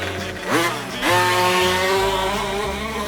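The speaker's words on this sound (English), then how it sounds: "It's got the 2-stroke direct injected motor." A two-stroke direct-injected engine on a machine at a muskeg race revs loudly, its pitch sweeping up twice in quick rises before holding a high, buzzing whine, close and continuous with no talk.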